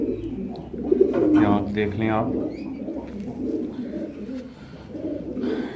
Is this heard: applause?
no